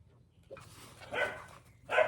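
Dogs barking indoors, a few brief barks, moderately loud but somewhat muffled, over a low steady background hum.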